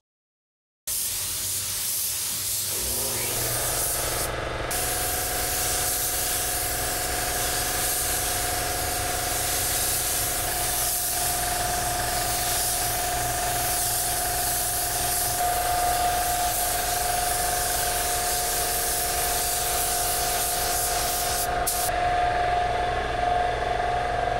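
A budget LVLP spray gun lays down white base paint in a continuous loud hiss that starts after a second of silence and runs unbroken, with a low compressor-like hum underneath.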